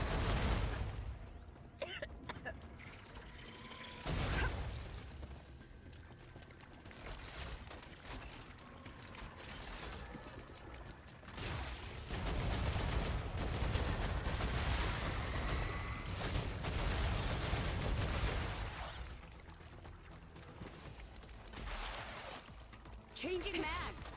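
Gunfire in the StarRupture video game: bursts of shots and booming impacts spread across the stretch, fairly loud and dense in places, with a person talking over much of it.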